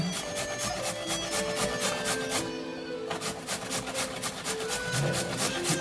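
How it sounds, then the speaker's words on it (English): A carrot scrapes rhythmically across a hand grater, fast regular rasping strokes repeated close up with a brief pause midway, no talking. "Grating the carrot."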